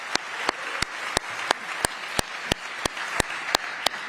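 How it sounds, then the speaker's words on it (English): An audience at a summit in London gives a big round of applause, a steady wash of clapping with sharp, evenly spaced claps cutting through in a regular beat. "Yes, that big round of applause."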